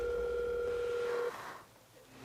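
A telephone call being placed: a steady dial tone hums close and clear for about a second before cutting off, followed by a faint quiet line.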